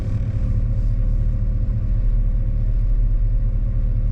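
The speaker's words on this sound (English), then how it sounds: "Just a small block Chevy with pipes." A small-block Chevy V8 in a 1989 Chevrolet C1500 Silverado work truck idles through pipes with a deep, rumbling exhaust burble, steady and close throughout.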